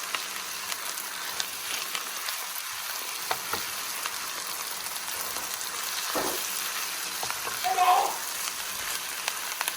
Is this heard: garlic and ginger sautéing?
yes